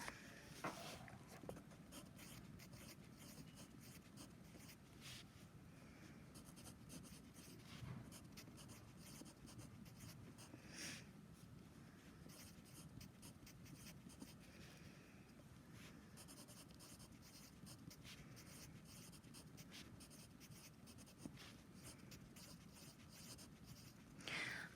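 Pencil scratching across a workbook page, a steady soft scraping of graphite on paper that runs throughout, close and quiet with faint room noise and no talking.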